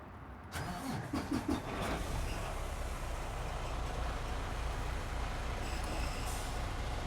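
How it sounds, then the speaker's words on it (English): A truck engine cranks with a few quick starter pulses, catches, and settles into a steady, fairly quiet idle that continues to the end, with no talk. "For that, I need to start the truck."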